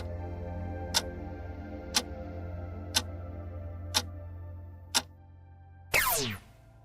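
A quiz countdown clock ticks five times at steady one-second intervals over a low steady hum, ending in a louder sweeping chime or buzzer burst.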